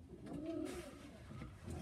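A pigeon coos nearby in a soft, rolling burst of low warbling notes, heard alone against faint background noise.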